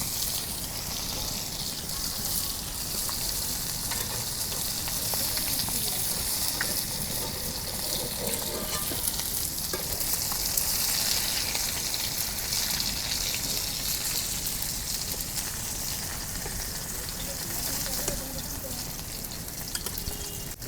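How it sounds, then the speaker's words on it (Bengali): A large pomfret fries in oil while being turned, giving a steady, even sizzle that holds at moderate loudness throughout without pauses. "মাছ আমি চারিপাশে উল্টে উল্টে ভাজা নিতেছি"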